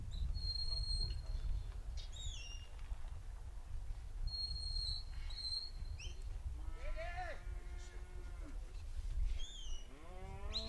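Cattle mooing in an open stockdog trial field, with several long, rising and falling lowing calls over steady outdoor wind noise, some nearer and louder, with birds chirping faintly and occasional voices in the background.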